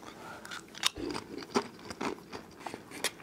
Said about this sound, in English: let's crunch into it